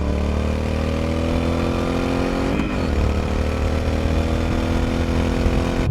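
A motorcycle engine idles loudly and close, a steady throbbing rumble with a brief dip in pitch partway through, recorded as an example of motorcycle audio.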